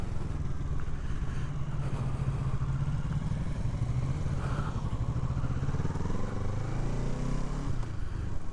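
A motorcycle rides past on a street, its mid-pitched engine rumbling steadily up close before the tone drops away as it passes.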